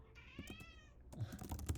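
A cat lets out a long, loud drawn-out meow, followed by a few soft clicks and taps nearby.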